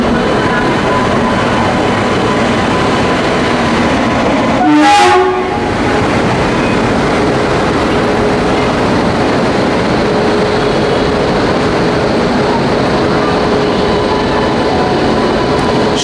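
A Kavach-fitted Indian Railways locomotive at Bhilai rumbles steadily nearby with loud, continuous rail noise, while a single short horn blast sounds early on.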